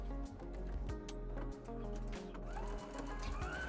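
Sewing machine stitching a sling tote bag, a steady close mechanical hum with a repeating rhythmic pulse throughout, broken by brief hitches as the stitching pauses and restarts.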